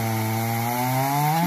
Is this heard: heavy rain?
no